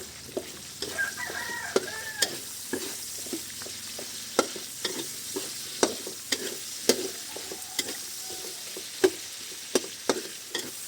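White and red onions with a whole head of garlic sizzle and fry in a pan, with steady crackling and repeated scraping taps of a spatula stirring throughout, close and fairly quiet, without talk.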